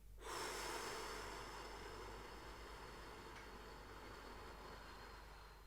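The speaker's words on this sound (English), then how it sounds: "breathing in through your nose for 4" One long, slow inhale through the nose, heard up close as a soft, faint, steady airy hiss that fades gradually, with no talking.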